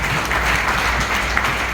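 An audience at an international business forum applauds, steady dense clapping from a full hall, loud and continuous throughout.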